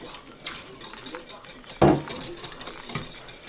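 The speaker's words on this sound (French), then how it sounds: "on mélange bien" Panna cotta mixture with dissolved gelatin being stirred in a pot, giving a sharp clink of utensil against metal near the middle among quieter scraping and light kitchen clatter.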